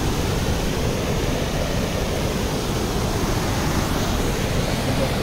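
Fast-flowing water at Bhatinda waterfall makes a dense, steady roar of broadband rushing with no pauses, close and constant throughout.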